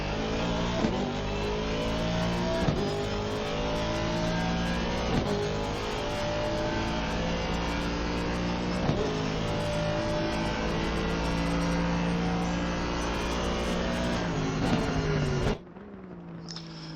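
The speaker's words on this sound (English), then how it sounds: "I just absolutely love hearing that Aston Martin. It's just an amazing car to hear." An Aston Martin race car in the racing game Assetto Corsa Competizione, engine roaring loud and steady for a long stretch with periodic gear-shift blips, then abruptly cutting off near the end.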